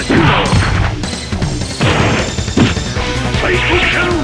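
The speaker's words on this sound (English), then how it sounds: "Psycho Crusher!" Bison's Psycho Crusher special attack in the fighting game Street Fighter EX2 Plus: loud crashing, smashing impacts and bursts, with a character's voice shouting over the clashing game effects.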